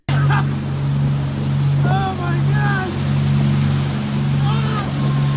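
Steady low droning of a boat motor runs throughout on open ocean during a killer whale encounter, with brief excited exclamations from passengers over the hum.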